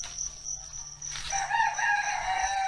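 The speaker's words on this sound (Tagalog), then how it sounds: "sarap pakinggan po ng tilaok ng manok" A rooster crows outdoors at a rural yard, a loud, clear cock-a-doodle-doo rising in the second half over steady background insect or ambient hum.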